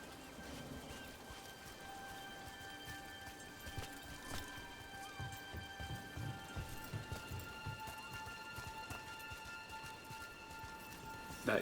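Steady rain hiss in a Dragon Age: The Veilguard game scene, with horse hooves clip-clopping and tonal ambient hum over it, moderate and continuous throughout.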